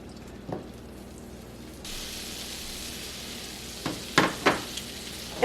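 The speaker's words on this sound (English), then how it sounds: "We'll drop in our butter and melt that." Butter melting in a pan to start a roux for lobster mac and cheese, a quiet steady sizzle that swells after a couple of seconds, with a few sharp clinks and scrapes near the end.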